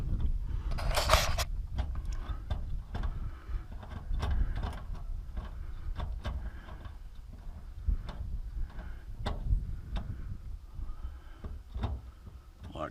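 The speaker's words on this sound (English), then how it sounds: "Okay, we've got the screws started. I'll just run them in." Screws run into a wall while an Onforu LED wall lamp is mounted on the Sugar Shack, a series of close mechanical whirring and ratcheting bursts with sharp clicks and a few clatters, steady and moderately loud, with no talking.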